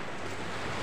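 Steady broadband wash of ocean surf on a sunny morning beach, with light wind noise over the microphone and no voices.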